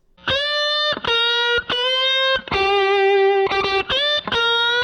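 A distorted electric guitar plays a pentatonic blues phrase of sustained, singing notes with pitch bends rising and falling, loud and close with no talking.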